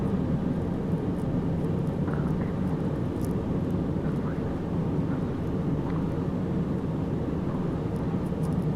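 Airliner cockpit during approach with the landing gear lowered, a loud continuous roar of engines and airflow filling the cabin, with faint clicks on top.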